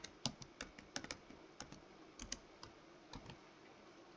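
A password goes in on a computer keyboard as a quiet, close patter of individual key clicks in an uneven rhythm, with no one speaking.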